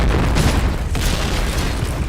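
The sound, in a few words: grenade explosion in a video game shooter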